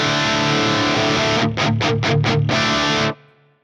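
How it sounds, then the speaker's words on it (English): An electric guitar runs through a Fractal Axe-Fx modeler with a noise gate on the input, giving a loud distorted chord that briefly stutters in rapid chops and then cuts off sharply. A faint hum remains after it stops. "I have my guitar plugged into the Fractal."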